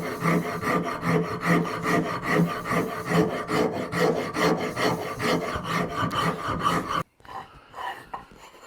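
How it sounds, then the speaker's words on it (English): Steady back-and-forth rasping of a wood rasp shaping a rocker cradle part, rhythmic scraping strokes close and continuous for about seven seconds, then abruptly dropping to quieter room noise. "this is just going to be rasping."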